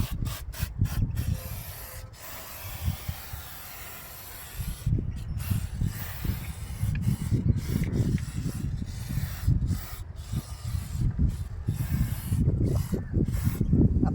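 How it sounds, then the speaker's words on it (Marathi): GLEASER anti-rat aerosol spray is sprayed around cables and hoses in a car engine bay, giving close, repeated hissing bursts of uneven length with short pauses between them. "खूप इझिली स्प्रे होतो आहे"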